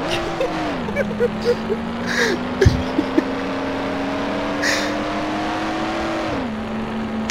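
A loud car engine in the video game Mafia, driving at night through Lost Heaven, holds a steady droning hum with a couple of pitch shifts as it revs, plus brief clanks and bumps along the way.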